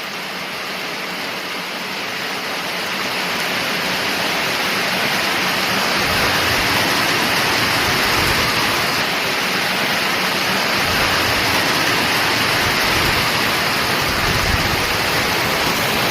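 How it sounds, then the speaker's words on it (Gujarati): Heavy monsoon rain pours down in a loud, dense, unbroken roar that swells over the first few seconds and then holds steady, with no voices. "જો મિત્રો વરસાદ જેવો પડે એકદમ"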